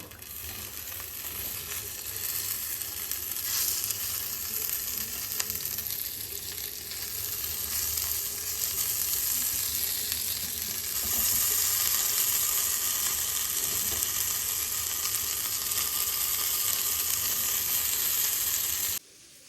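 Paneer tikka frying in butter in a pan at home, giving a steady, close, loud sizzle with brief stirring noises and a faint hiss throughout that cuts off sharply at the end.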